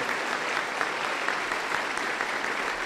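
A church congregation at a Sunday evangelical service breaks into steady, sustained applause, a dense even clatter of many hands at moderate volume throughout, with no speech on top.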